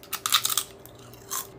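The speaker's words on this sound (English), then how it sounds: "Y'all, that crunch." A fried sugar kelp chip, a Korean snack dusted with sugar and salt, is bitten with a loud, close crisp crunch, followed by quieter chewing and a second brittle burst near the end.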